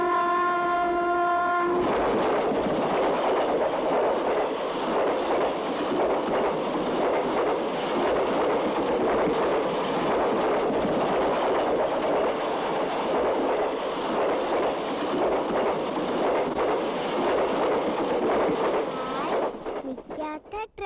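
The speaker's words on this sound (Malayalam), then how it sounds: "ട്രെയിൻ മതി" A train horn blares at the start, then a loud, continuous roar of a train running on rails carries on for most of the stretch before easing off at the end.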